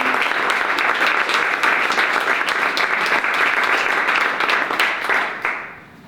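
A pitch-day audience gives founders and presenters a loud, dense round of applause, steady for about five seconds before tapering off and fading out.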